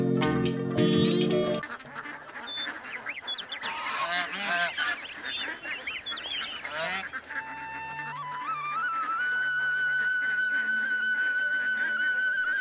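A flock of ducks on a duck farm quacks and honks in a busy, overlapping chorus, loud at first, then settling into a softer steady background with a few whistle-like tones and no talking.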